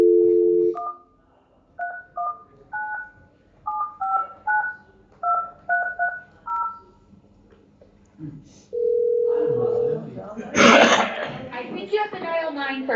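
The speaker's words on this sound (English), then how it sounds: "I must have had to dial 9 on this one." Telephone keypad tones dialed in a series of short, evenly spaced beeps, followed by a steady tone, then a loud burst of rustling and a brief voice near the end.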